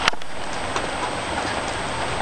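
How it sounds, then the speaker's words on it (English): Steady hiss of rain falling outside, a dense even wash with a few sharper drops near the start, no voices. "But yeah, you can hear the rain."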